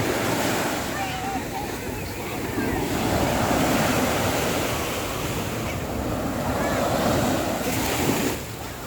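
Steady surf at high tide washing in on the beach at Bang Saen, Thailand, with a continuous broadband roar, wind buffeting the microphone throughout; close and fairly loud.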